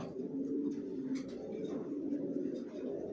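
Racing pigeons of Long and Johnson lines kept in a loft coo in low, overlapping murmurs, a continuous soft burble at close range with a few faint sharper sounds.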